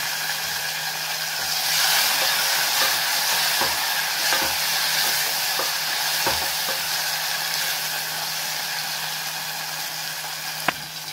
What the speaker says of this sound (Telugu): ఉల్లిపాయలు ఎర్రబడ్డాయి। ఇప్పుడు నిలువుగా తరిగిన టమాటా ముక్కలు వేసుకున్నాను।